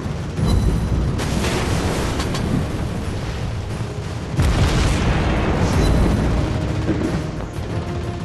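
Loud, dense booming rumble with a heavy tank gun blast near the start and another midway, sustained like gunfire and explosions in a noisy video game.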